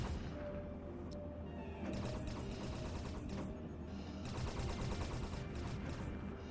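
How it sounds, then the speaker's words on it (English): Spaceship turrets fire at incoming asteroids in a colony builder game, rapid bursts of mechanical shooting in repeated volleys, fairly faint with crashes mixed in. "These are my turrets. We use them to shoot at asteroids that are coming to hit our ship."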